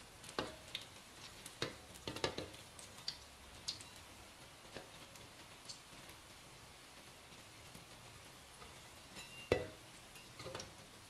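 Tofu cones frying in hot oil over medium heat, giving quiet, scattered crackles and sharp little pops over a soft, steady sizzle, with a few louder snaps now and then.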